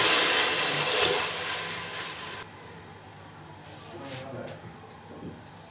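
A stream of 1.5 litres of water pours steadily into a pan of masala for masoor dal pakora curry, a loud rushing splash lasting a couple of seconds before cutting off to quiet kitchen background.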